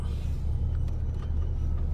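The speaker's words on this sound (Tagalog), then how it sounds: "papaunahin na tayo nitong truck" A truck rolls by on a road near a beachside lot, a steady, close, low rumble with no voices.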